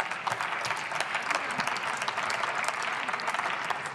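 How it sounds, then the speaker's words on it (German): Sustained applause from members in the German Bundestag during a budget debate on the finance ministry, a steady dense wash of many hands clapping throughout, fairly distant and even. "Applaus"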